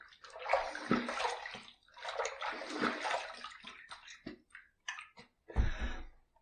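A Fine Marvel safety razor is rinsed under running water in bursts of splashing and gurgling, with short pauses between rinses and a final close splash, heard alone.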